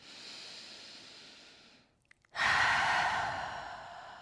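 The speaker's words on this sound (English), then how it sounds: "Full breath in. Full breath out." Deep breath during a yoga class, a long soft exhale fading to near silence, then a sharp, loud inhale or exhale rush that slowly tapers, heard close and alone.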